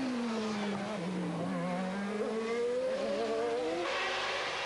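Formula 1 race cars, including Williams Renaults, scream together at the start of the 1994 race at the Nevers track, their high engine notes rising and sliding in pitch as the tightly bunched field accelerates in one continuous roar.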